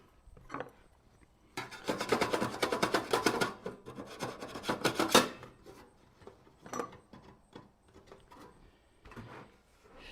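A deburring tool scrapes around a freshly tapped hole in metal for a custom computer mod, a close rasping rub lasting a few seconds, followed by scattered light handling clicks.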